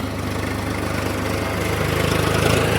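A tractor engine idles steadily nearby, a rhythmic chugging hum that swells slightly toward the end, with no talking.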